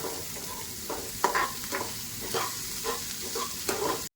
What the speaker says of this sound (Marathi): आता यामध्ये जातो एक कांदा आपल्याला कांद्याला पण आपण मस्तपैकी भाजून घेऊया